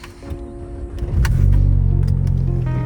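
A 2015 Ford Mustang EcoBoost with a 6-speed runs, a low engine rumble swelling about a second in and holding steady and loud, with a few faint clicks on top.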